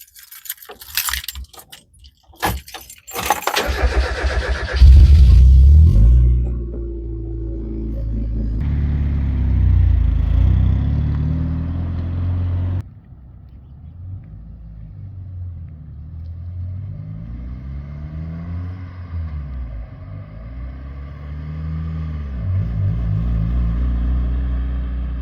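Keys jangle, then a Mazda Miata engine cranks and catches in cold weather, revving briefly before settling into a low, steady idle rumble that shifts slightly over time.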